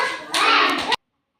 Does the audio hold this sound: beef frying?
no